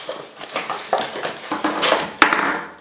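A metal spoon and a plastic knife clink and clatter together in short irregular bursts, close by, with one sharper knock near the end.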